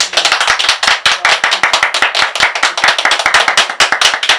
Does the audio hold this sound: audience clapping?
yes